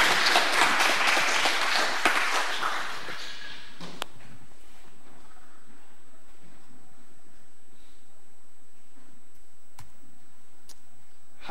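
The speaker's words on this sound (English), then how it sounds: "I'll give a big applause for him." An audience at a conference talk on Python and C++ applications claps for about three seconds, fairly loud and dense, then stops abruptly, leaving a near-silent room with a few faint clicks.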